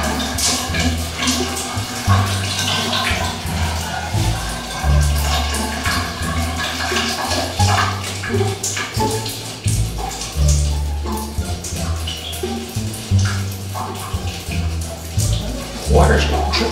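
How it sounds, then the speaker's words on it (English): Running water pours steadily, with splashes and drips close by and music playing underneath. "Water's going dripping from me."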